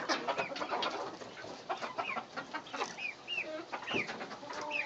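Chickens clucking and calling at feeding time in a backyard flock, several birds overlapping at moderate distance, steady and busy with no talking.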